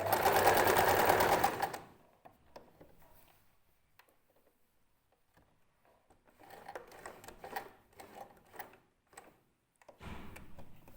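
A sewing machine stitches a seam near a dress cuff, heard as a loud continuous whir at first, then quieter, uneven bursts of rapid mechanical ticking and clatter, near and without talk.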